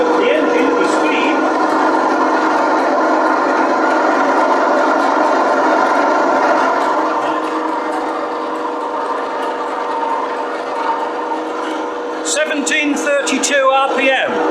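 An engine running at a steady speed of around 1732 RPM during a test of an LT230 transfer box, giving a continuous loud mechanical hum and whine with a voice briefly joining near the end.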